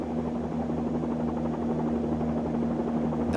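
Bell 47-2G helicopter in a flight simulator game with the throttle slightly lowered, giving a continuous steady engine and rotor drone with a constant buzzing hum throughout, unbroken and fairly even in loudness.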